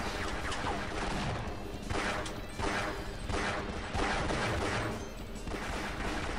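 Repeated explosions go off below in Half-Life, a dense, loud string of booming blasts and crashing bursts rolling on without a break for several seconds.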